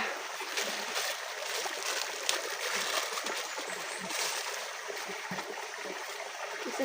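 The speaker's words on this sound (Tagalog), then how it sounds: "ngayon tahimik po yung mga kaibigan maliban sa tunog ng tubig" Mountain stream water flows and splashes steadily throughout, a continuous broadband rushing with small bright splatters, close and fairly loud, with no talking over it.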